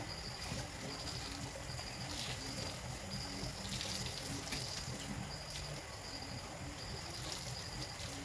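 Pepsi poured over a whole roast pig (lechon), a steady splashing, trickling pour of liquid running continuously and close by, with no talk over it.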